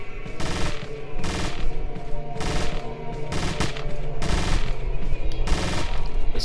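Rapid bursts of TMP submachine gun fire from Resident Evil 4 Separate Ways, loud and close, several sharp volleys repeating over a steady backdrop of game sound.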